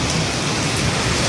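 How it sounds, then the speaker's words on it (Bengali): Heavy rain pouring onto streets in Saudi Arabia, a dense, loud, unbroken hiss of downpour striking the road with no gaps. "কী রকম প্রবল বেগে বৃষ্টি বইছে দেখুন"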